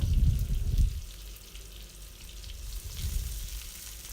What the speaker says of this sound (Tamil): வெங்காயத்தை பாதி அளவு நல்லா வதக்கிக்கோங்க